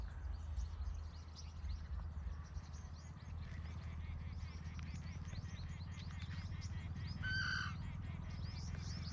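A bird calls faintly amid steady low background rumble and scattered chirps, with one brief louder call toward the end.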